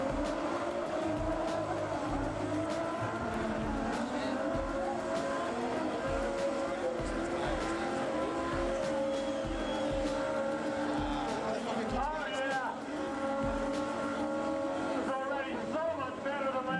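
Cars locked in a burnout tug-of-war standoff at Raceway Park drag strip in New Jersey, engines roaring loud and continuous with screeching tire squeal throughout, the pitch wavering briefly near the end.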